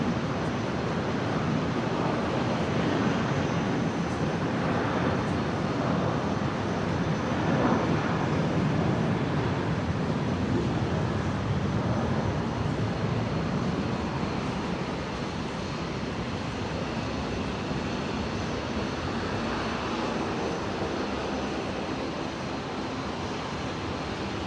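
ATR turboprop airliner at Brisbane airport, propellers running at close range in a steady, loud broadband drone that holds for the whole stretch with slight swells and no voices.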